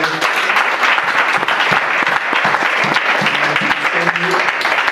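A church congregation claps loudly in sustained applause to praise the Lord, a dense steady patter with voices mixed in throughout.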